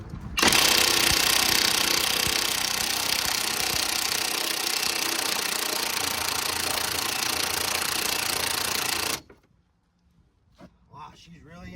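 An impact wrench hammering on the front strut of a 2007-2013 Toyota Highlander, a loud, continuous rattling burst of about nine seconds that stops abruptly, followed by quiet shuffling.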